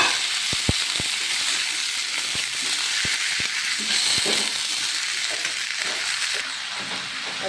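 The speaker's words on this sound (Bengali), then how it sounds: "এখন সর্বপ্রথমে আমি ঢেলে দিলাম পুঁই শাকের বিচি।" Malabar spinach seeds hit browning onions in hot oil and sizzle steadily, a close, continuous frying hiss with a few sharp spatters and light stirring clicks.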